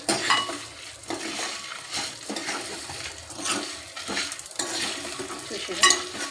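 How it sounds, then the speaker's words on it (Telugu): Lentils and dried red chillies roast in a pan with rhythmic stirring, as a spoon scrapes and clinks against the metal every second or so over a light sizzle, close and fairly loud, with no talk. "కారం ఎండుమిర్చి కొత్త కాయలు నిన్న వేసుకొచ్చిన కారము ఇవి కూడా మామూలుగా ఇట్లా వేయించుకోవాలి"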